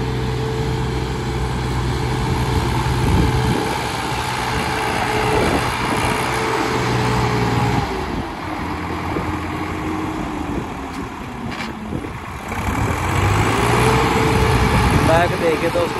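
A Swaraj 744 XT tractor runs at full power working soil, its engine a steady loud drone whose pitch dips and rises as the load changes, with people talking over it.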